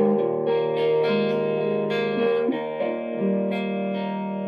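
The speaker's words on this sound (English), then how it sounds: "you can get almost a completely clean sound, even when you're in the distorted settings" A Sire T7 electric guitar rings out through distortion with chorus-like shimmer and reverb, playing sustained chords and notes with a fairly clean, softly driven tone.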